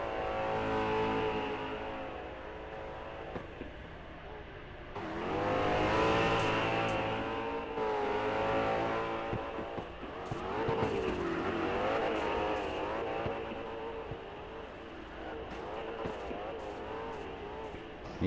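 A drift car on high-adhesion Pro settings accelerates hard during competition qualifying, its engine revving and rising in pitch with some tire noise, heard at a distance as the car runs past.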